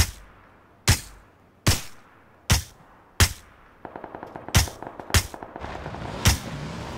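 Gunfire aimed at a car's tires in a shooter video game: loud, sharp single shots spaced about every second, joined midway by a faster rattling burst of smaller shots underneath.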